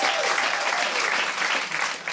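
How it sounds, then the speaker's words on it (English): Applause from a comedy audience at Soho Theatre fills the room, dense and steady clapping with no break. "Big round of applause for Soho Theatre."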